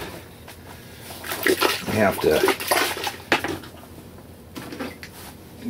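Laundry rinsed by hand in a tub of water, with uneven sloshing, splashing and dripping bursts up close, a voice talking over parts of it.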